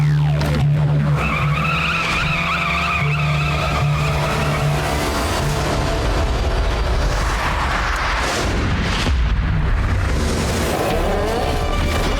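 A cartoon car brakes hard and skids to a stop, with a long tire squeal and screech over a rumbling engine, ending in a harsh scraping rush; loud and close.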